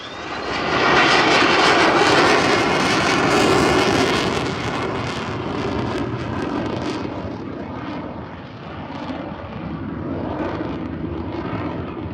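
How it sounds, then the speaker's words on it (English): A display aircraft's engine roars loud and continuous as it flies a dirty roll with gear and flaps extended at Farnborough Airshow 2024, the tone swelling then easing slightly, with wind buffeting the microphone. "Positioning now for a dirty roll, the gear and the flap extended, not a lot of speed, soon to pitch up and roll"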